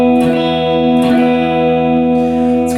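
A Warmoth Jazzmaster electric guitar on its noise-canceling middle pickup position rings out with sustained, full chords, a couple of strums restruck around one-second intervals, loud and alone with effects-style sheen.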